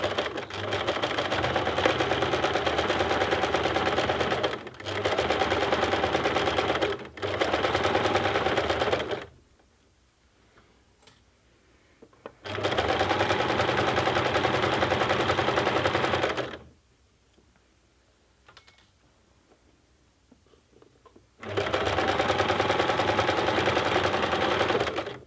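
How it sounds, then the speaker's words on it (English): A sewing machine runs white thread through fabric in three long bursts of rapid, even stitching, separated by short quiet pauses, close and loud. "now I'm ready to sew."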